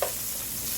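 Garlic is stirred through sizzling olive oil in a pan, a brief bright hiss with a soft scrape at the start.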